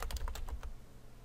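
Quick bursts of typing on a computer keyboard: several crisp key clicks in a rapid run that stops abruptly, with nothing else heard.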